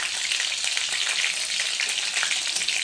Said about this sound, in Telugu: అలాగే కట్ చేసి పెట్టుకున్నటువంటి ఒక పచ్చిమిర్చి